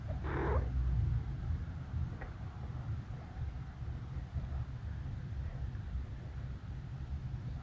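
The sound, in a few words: cat purring while sleeping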